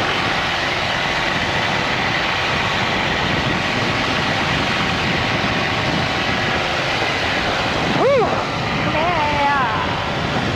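A stunt plane's engine drones steadily as it taxis, a continuous rumble with a brief whistling tone near the end.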